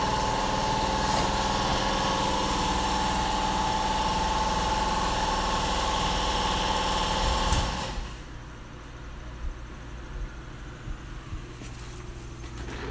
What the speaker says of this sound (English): I want to turn the compressor off so you guys don't have to get bugged by the noise